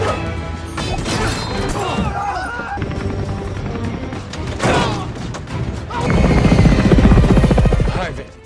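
A helicopter in a film scene, its rotor and engine roar swelling loud toward the end over a busy mix of music, impacts and crashes, with voices mixed in.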